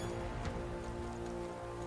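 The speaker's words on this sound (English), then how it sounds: "It's raining." Steady rain falls in the video game Metaphor: ReFantazio, a dense, even patter at low level with no voices over it.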